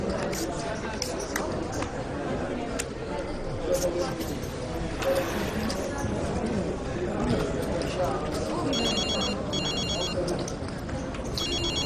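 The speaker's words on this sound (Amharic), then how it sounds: "ስልክ" A telephone ringtone chirps in short repeated bursts near the end of a busy, noisy dramatic scene, under continuous talking and background commotion.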